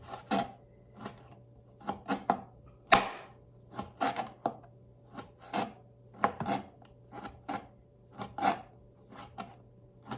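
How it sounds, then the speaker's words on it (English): A knife slices through dried chipped beef on a cutting board, giving a steady run of crisp, close chopping strokes at an even rhythm, each followed by a short scrape, with no talk. "And then I'm just going to slice it like this."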